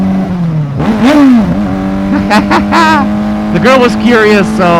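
A Honda CBR600RR motorcycle engine idles steadily and then revs in several sharp, rising bursts, loud and close, while someone talks over it.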